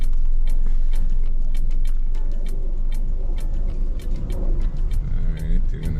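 A car reverses slowly during a Florida driving road test, its low engine rumble and road noise steady close up, with a regular ticking running throughout.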